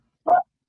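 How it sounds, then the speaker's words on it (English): A six-month-old puppy gives a single short bark, close and fairly loud against an otherwise quiet room. "She's a 6-month-old pup and keeps me busy."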